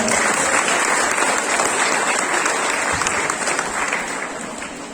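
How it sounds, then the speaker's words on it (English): An audience at a senior high school graduation ceremony applauds the awardees with dense, sustained clapping that fills the hall at steady loudness and tapers slightly at the end. "A warm round of applause please for the awards."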